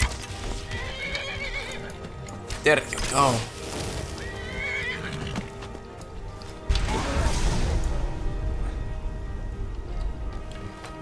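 A horse in the Skyrim video game whinnies and stamps with clopping hooves amid game ambience and music, while someone talks over it.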